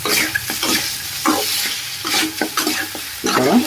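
Chicken pieces coated in ginger paste are stirred in a kadai for a hotel-style chicken roast, with a loud continuous sizzle and repeated scraping strokes of the spoon close by.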